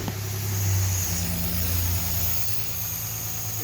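Cold Slant Six engine fitted with a throttle body, idling with a low steady rumble and a slight rise and dip in pitch, close and loud, no talking.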